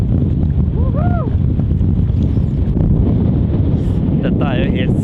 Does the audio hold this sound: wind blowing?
yes